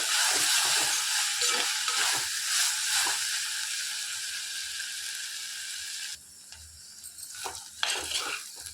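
Ivy gourd curry in a curd masala gravy bubbling and sizzling steadily in a pan, with spoon scrapes and stirring clinks coming in clearly toward the end.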